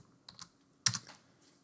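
Computer keyboard keys tapped in a few quiet, brief clicks, a couple of light taps then a firmer burst, close and alone over a faint background hum.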